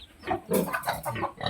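Freshly bathed pigs on a farm in the provinces grunt and oink in a quick run of snorting calls, close and fairly loud, with no talk over them.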